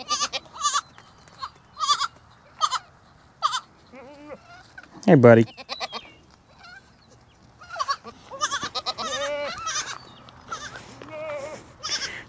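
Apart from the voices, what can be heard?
baby billy goats bleating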